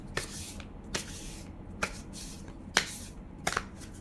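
Tarot cards shuffled and drawn up close, giving about five crisp, separate snaps and flicks spaced roughly a second apart over a quiet, steady background.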